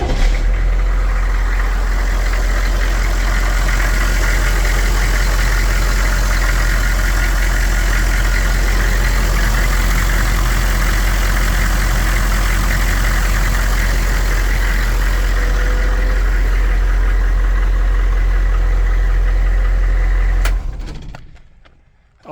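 A 2010 Humvee fitted with a 200 amp alternator idles for about twenty seconds with a heavy, constant low rumble, then cuts off abruptly into silence at the end.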